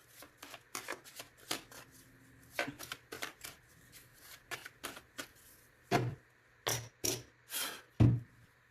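An oracle card deck is shuffled and cut by hand, with close, crisp riffling bursts and soft slaps coming in an irregular rhythm, growing louder and more separated toward the end.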